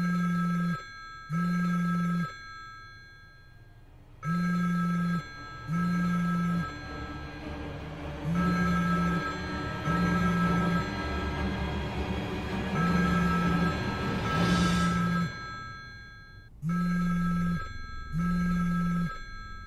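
A phone rings with an incoming call in a horror short film, sounding as repeated pairs of buzzy electronic ring tones with a whooshing swell in the middle, fairly close and without talk.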